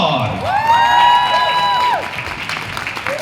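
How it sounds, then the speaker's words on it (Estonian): An audience at a Romeo and Juliet fan day greets the director with applause and cheering. A dense crowd claps loudly and a shrill whoop rises and holds for about a second before the clapping carries on. "Teeme suure aplausi meie lavastajale,"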